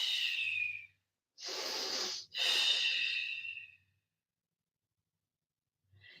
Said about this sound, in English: 3 belly breaths